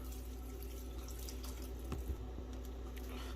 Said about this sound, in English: Now we're gonna add our water